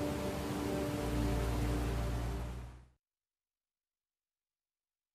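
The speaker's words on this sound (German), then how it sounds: "Regen, Regen," Steady broadband rain hiss from the video game Heavy Rain fills the first three seconds, with a low rumble underneath, then cuts abruptly to silence.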